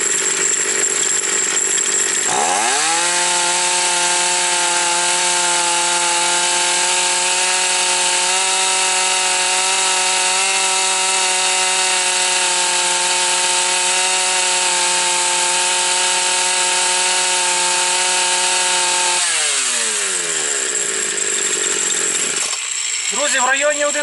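A 3800 chainsaw engine revs up sharply, holds a loud, steady high-pitched whine at full throttle, around 20,000 rpm, for many seconds, then drops back down to idle.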